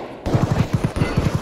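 Rapid automatic gunfire in the video game Escape from Tarkov, a loud close burst of about a dozen evenly spaced shots after a brief quiet start.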